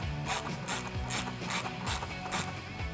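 A hand ratchet clicks in quick, even bursts while snugging the bolts of a K&N cold air intake on a 2012-2018 Jeep Wrangler JK, heard close and fairly quiet with no talking.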